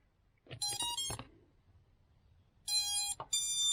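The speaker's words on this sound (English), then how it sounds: "everything makes a nice sweet motor connect noise" FPV drone motors connecting to the ESC give short sequences of high electronic startup beeps and tones, two clustered groups with a quiet gap between, close and clear with no talking.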